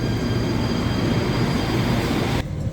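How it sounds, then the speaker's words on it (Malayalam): An Athens metro train arriving at the station: a loud, steady, close rumble with a high whine running through it, unbroken for a few seconds before it cuts off abruptly, with no voices. "അങ്ങനെ മെട്രോ വന്നെത്തി."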